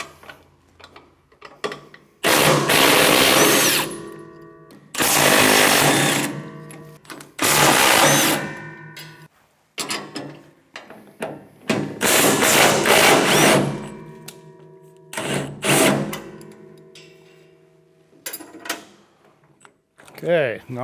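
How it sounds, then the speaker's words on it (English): Bolts are removed from the auger housing of a MUSKOX 23 37 snowblower with a power tool, heard as repeated loud mechanical whirring bursts of one to two seconds, separated by brief pauses and light clanks, recorded up close. "Here I'm going to remove all 4 of these bolts, but I'm just going to do 3 at first so the auger doesn't fall down."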